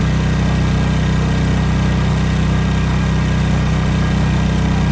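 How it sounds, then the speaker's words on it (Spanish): Boat motor in the survival game Stranded Deep, a loud, constant engine drone with steady vibration and no change in pitch, running alone throughout. "el motor hace un montón de ruido"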